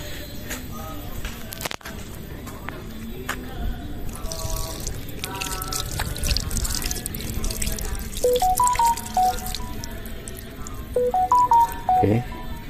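Water runs from a tap at a hand-washing station at the entrance of a Marian grotto shrine in Rangkasbitung, a steady outdoor splash with scattered beeping tones and faint background voices.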